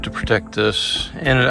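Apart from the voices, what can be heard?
No everyday noises stand out.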